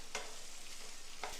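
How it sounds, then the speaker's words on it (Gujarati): Potatoes and pointed gourd sauté in an oiled pan, giving a steady soft sizzle with two brief scraping stir strokes near the start and end. "હવે આપણે સાથે જ પરવરને લઈ અને તેને પણ થોડા સાંતળી લઈએ"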